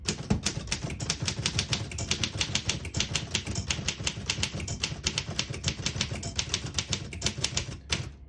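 Someone types on a 1933 Underwood Universal portable typewriter, sounding a rapid, steady run of crisp, close mechanical keystrikes with no pauses or voices, easing off right at the end.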